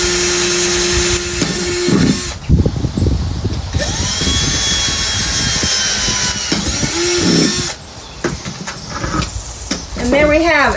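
A handheld power drill bores holes in a plastic yucca pot, whining in several short bursts with scraping and clattering handling noise between them, close and fairly loud.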